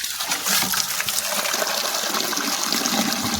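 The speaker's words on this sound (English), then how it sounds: "I'm gonna go ahead and use the pump to help me with my cleanup." A water pump runs during sluice box cleanup, pushing a steady, close rush of gushing and splashing water that fills the clip with no talking.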